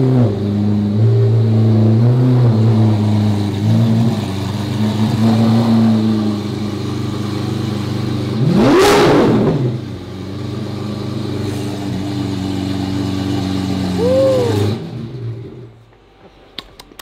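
A Lamborghini V12 engine revs hard on a street, with a loud passing swell near the middle of the clip, other engines droning underneath, a second short rev, and then a fade to near quiet.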